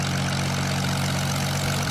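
Loud, steady drone of many aircraft engines on a plane built in the video game Build a Plane, a constant low hum with a bright hiss running unbroken throughout.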